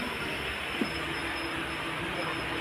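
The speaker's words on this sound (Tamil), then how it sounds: "இப்போ வந்து வெஸ்ட் ஹில்லுங்கிற ஒரு ரயில்வே ஸ்டேஷன் வந்தது" A train rolls steadily through West Hill railway station, a continuous loud rumble of wheels on track with a faint squeal and a brief clank partway through.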